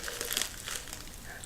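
A plastic bag wrapped around fragrant Lapsang Souchong tea crinkles and rustles softly and steadily as it is pulled from a tin, quiet close-up crackling with no voices.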